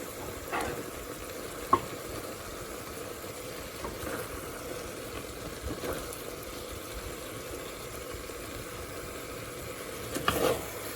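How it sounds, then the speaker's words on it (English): Okra (bhindi) frying in a pan as a home-cooked vegan salan: a faint, steady sizzle runs throughout, with occasional soft stirring scrapes and a brief clink, no talking. "And just keep mixing it until it cooks through."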